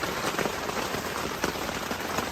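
Heavy rain drums steadily on a camping tent during flooding rains, a dense, close, unbroken patter of drops with no voices.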